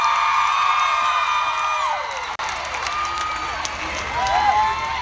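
A concert crowd whoops and cheers for the band, with bright high shouts and scattered applause filling the space continuously, briefly dipping midway before rising again.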